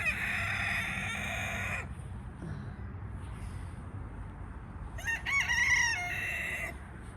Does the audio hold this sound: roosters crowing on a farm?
yes